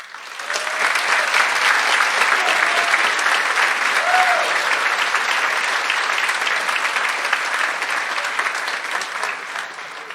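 A crowd at a school district high school commencement applauds the graduates, a sustained, loud sheet of clapping that swells in after a brief quiet start and holds steady, with faint voices murmuring underneath.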